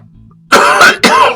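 Two harsh, loud coughs come in quick succession close to the mic from someone during a hobby model-weathering session, after a near-silent start.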